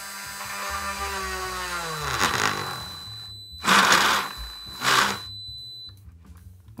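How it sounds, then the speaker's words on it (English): A small high-pitched 4-volt Parkside rotary tool whines as it spins up, then bites in short grinding bursts while drilling a hole in plastic, separated by pauses, close and fairly loud. "Let's drill that hole. I'm gonna use my 4-volt Parkside Dremel."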